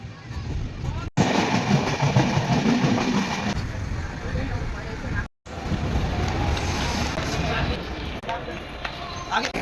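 Continuous rumbling rattle of the moving Jammu Tawi Express pulling out of Patna, a steady dense roar with two brief dropouts, heard from inside the carriage.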